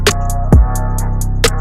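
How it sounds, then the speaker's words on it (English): A kick drum and hi-hats clashing in an FL Studio mix: one deep booming kick under a steady tick of hats, over a sustained bass tone, loud and dense for under two seconds. "Here's just how the hats and the kick are fighting for room"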